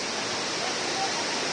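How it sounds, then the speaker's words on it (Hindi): Waterfall at Goram Ghat in Rajasthan pours down in a steady, dense wash of broadband rushing water that fills the whole moment without a break, with no voices over it. "ये जो वाटरफॉल जो मैंने आपको पहले बताया वो गिर रहा है"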